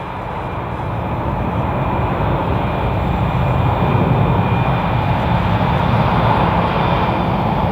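A flag carrier airliner at Madrid Barajas Airport roars steadily in a broad jet rumble that builds slightly as it draws nearer, loud and sustained with no talking.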